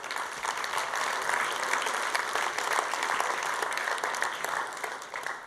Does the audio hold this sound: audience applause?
yes